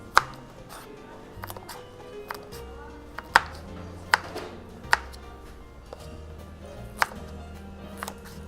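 Onions being chopped into big chunks for Liverpool scouse, sharp knife knocks on a board spaced irregularly, about seven distinct clear strikes over low kitchen background.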